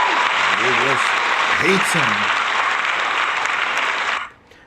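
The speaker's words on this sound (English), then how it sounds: "Let's give that a round of applause" Applause in a podcast setting honoring the first fan inducted into the Basketball Hall of Fame, a steady wash of clapping under a man's speech that cuts off abruptly near the end.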